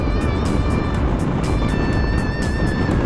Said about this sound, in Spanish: no sé si se escucha el viento afuera,